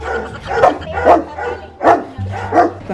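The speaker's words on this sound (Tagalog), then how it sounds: "Ang laki ng aso." A big dog barks repeatedly in deep, booming bursts close by, roughly one bark every half second, with a low hum underneath.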